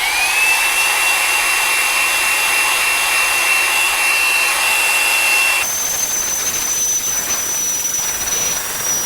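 A heat gun runs steadily, blowing hot air with a loud, constant whirring hiss and a high motor whine whose pitch shifts partway through, with no talk over it.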